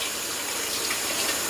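Cold tap water runs steadily over cooked meatloaf to cool it, a constant close hiss with no pauses or voices.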